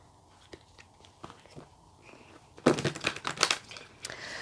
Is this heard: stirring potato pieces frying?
no